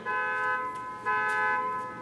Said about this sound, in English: Someone's car alarm's going off.